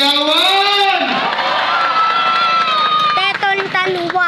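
Voices in a crowd yell and cheer loudly and close by, with long drawn-out shouts that overlap, then rise into several bursts of whooping near the end.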